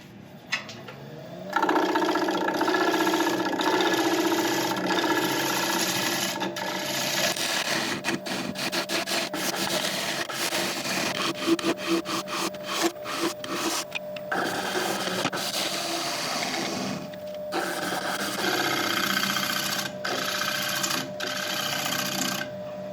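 A cracked apple log spins on a wood lathe while a 45-degree bowl gouge cuts it, giving a loud continuous rough hum with bursts of rapid rattling chatter as the tool bites, running steadily with no talk.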